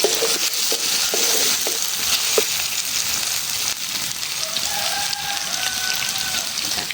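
Chopped onion and garlic frying in oil, a loud, close, continuous sizzle and crackle with a few light knocks and scrapes of stirring near the start.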